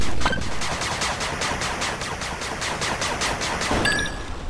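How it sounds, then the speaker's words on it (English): A machine gun turret in the real-time strategy game 8-Bit Armies fires a steady, rapid stream of loud shots lasting several seconds, with a brief clatter near the end and no talking. "Machine gun turret complete."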